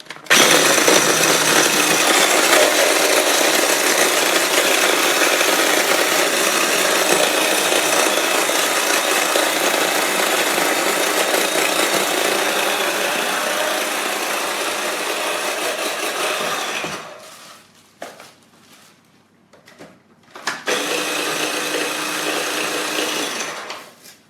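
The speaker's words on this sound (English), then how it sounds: "You can use hobnobs, ginger biscuits or other. I'll just go into the mixer." A small mini kitchen mixer crushing about ten digestive biscuits grinds loudly and continuously, gradually easing, then stutters through a few short pulses before one final burst.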